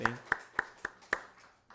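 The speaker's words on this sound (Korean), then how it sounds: "우리 큰 박수로 위로하고 격려하겠습니다" Church congregation at a Sunday worship service claps for a member's birthday, a short, sparse run of about six distinct hand claps with uneven spacing, fairly faint and fading out.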